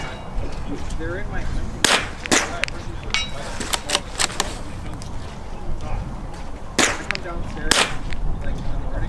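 Rimfire rifle shots at an outdoor varmint shooting match, several sharp, loud cracks spaced irregularly and mixed with the ring of distant steel targets, while people talk nearby between shots.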